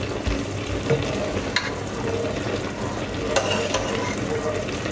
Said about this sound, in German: Rühr das ein bisschen.